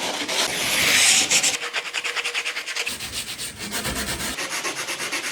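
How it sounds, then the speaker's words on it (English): Wood pieces for a faux fireplace sanded to shape, a steady rhythmic rubbing scrape close up that comes in repeated strokes, loudest early on and continuing alone without talk. "now we need to do some major sanding to shape things before they get painted"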